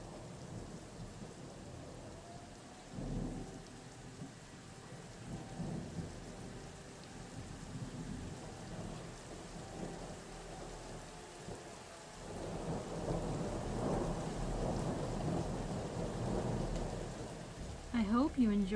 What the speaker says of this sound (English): Please enjoy this animated thunderstorm background.